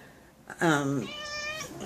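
A cat gives a single clear, drawn-out meow, close and loud, rising then trailing off over about a second.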